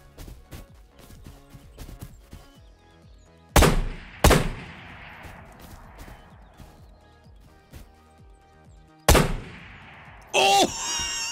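Gunshots from a video game weapon ring out in a few sharp, loud bursts, a pair near the start and more toward the end, with quieter game sounds between.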